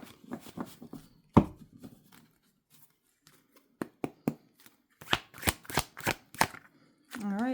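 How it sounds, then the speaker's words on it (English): Tarot cards are shuffled close by in a series of crisp riffles and slaps, with soft handling noises and gaps between bursts. "So I'm going to pull some tarot on this."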